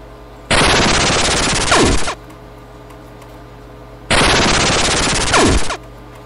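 A video game shotgun (Radioactive Decay) fires in two long, loud bursts of rapid gunfire. Each burst lasts over a second and a half and is followed by a quiet pause.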